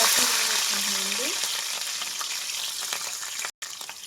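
Onions fry in a pan of oil used for a fish curry, with a loud, continuous close-up sizzle and light stirring scrapes. A brief cut breaks it near the end.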